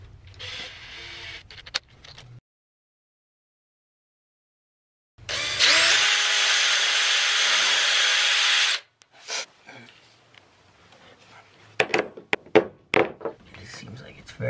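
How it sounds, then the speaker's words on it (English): A power drill with a very small bit pre-drills into very hard wood on a staircase railing, a steady high whine for about three seconds between bursts of handling and clattering noise. "I have my own drill bit and my gun here, and I'm gonna pre-drill."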